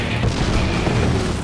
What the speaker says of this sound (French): Le convoi canadien est à découvert devant les tirs puissants des canons allemands.